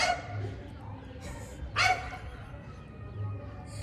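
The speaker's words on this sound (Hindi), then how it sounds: "जो कुत्ता भौंक रहा है" A dog barks nearby during an indoor interview, giving a couple of short sharp yaps and whimpering yips over a low background hum, with people talking around it.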